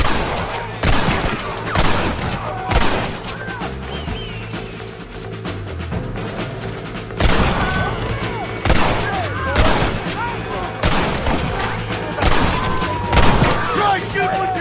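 Gunfire in the video game Red Dead Redemption: loud, repeated bursts of shots in irregular volleys, some sharp and some rolling, with voices shouting between them.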